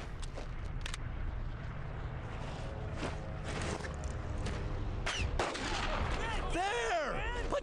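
Gunfire in the World War II shooter Brothers in Arms: Earned in Blood, a steady spread of distant rifle and machine-gun shots layered over a constant battle din, with sharper close cracks near the end.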